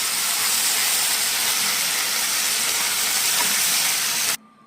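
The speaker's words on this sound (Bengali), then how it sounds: "এখন আদা রসুন বাটাটাকে 3-4 মিনিট ধরে ভালো করে কষিয়ে নেব" Ginger garlic paste frying in a pan, a loud, steady hissing sizzle that cuts off abruptly near the end, leaving quiet room tone.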